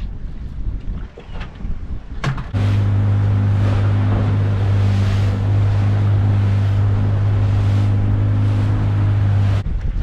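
A fishing boat's engine runs steadily at close range, a strong low droning hum with a constant tone, set against wind and open water out at sea while bream fishing.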